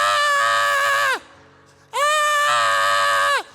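A preacher gives two long, loud, wailing screams, imitating someone bitten by a snake, each held about a second with a short gap between, close and strained.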